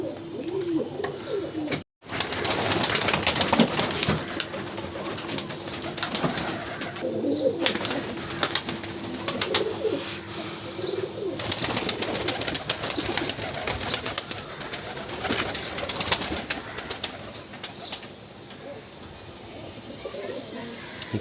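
Pigeons coo at a busy pigeon market in Uluberia, Howrah, where birds are sold retail and wholesale. Low cooing runs under a constant wash of crowd bustle and background noise, with brief voices and a short drop in sound near the start.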